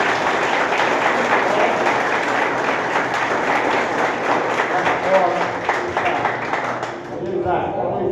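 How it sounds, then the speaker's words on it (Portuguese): Church congregation at a family service applauding, steady dense clapping from many people in a room, loud throughout and fading slightly at the end, with voices mixed in. "Aplauda o Senhor, bem forte."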